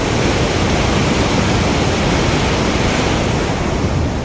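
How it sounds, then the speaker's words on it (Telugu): Water from the Ranganayaka Sagar reservoir roars out in a steady, loud, unbroken rush, a dense torrent with no pauses and no voices. "మొత్తం నీళ్ళంతా పోతూనే ఉన్నాయి అటు."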